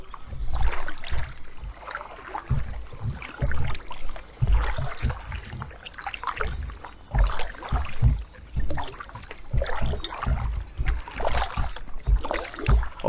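A Story Ranger One hybrid kayak being paddled on open water, with rhythmic paddle strokes splashing and dipping close by in a steady, repeating pattern and water sloshing between them.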